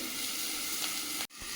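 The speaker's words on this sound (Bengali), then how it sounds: "ভালো করে ভাজো, ভালো লাগবে।" Vegetables from a home garden frying in hot oil in a pan, giving a steady, close, fairly loud sizzle that cuts off abruptly near the end, then resumes.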